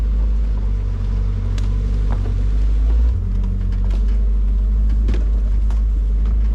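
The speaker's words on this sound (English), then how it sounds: "it's working the truck to pull that thing" A truck pulls a heavy load of hemlock timber, its engine a deep, loud, steady drone that strains and shifts pitch slightly midway, with scattered clunks and knocks over it.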